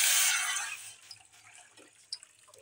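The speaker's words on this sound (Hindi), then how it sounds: "पानी, ऐड करेंगे इसमें।" Water poured into a cooking pan for semolina halwa, a brief splashing stream that fades quickly, followed by faint quiet clinks.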